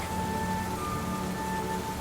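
Steady rain falls through a pine forest onto wet pine needles, a continuous even hiss that fills the whole stretch with no voices.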